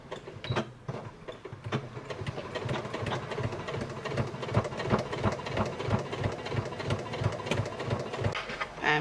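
A domestic sewing machine stitches binding around the edge of a fabric machine cover, a close, steady rapid mechanical chatter with rhythmic needle clicks that pauses briefly near the start and then runs on continuously.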